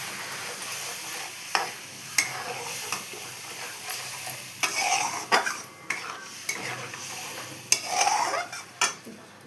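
Egg curry masala with salt, turmeric and Kashmiri chilli powder is sautéed in a pan, with repeated loud spoon scrapes and clanks against the metal over a continuous frying sizzle, and no one speaking.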